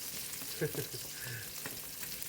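Garlic fries in a pan with a steady, soft sizzle and crackle, close by, with a few faint clinks of stirring.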